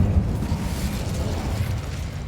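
A fire spell cast in the video game Hogwarts Legacy, a dense, steady roar of crackling flame and low rumbling bursts that holds at full strength throughout, with no voices over it.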